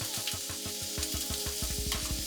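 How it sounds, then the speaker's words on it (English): Shrimp for scampi fry in an oiled pan with a loud, close, continuous sizzle, broken by a run of rhythmic low thumps as the pan is worked. "I'm going to start cooking our shrimp for the shrimp scampi"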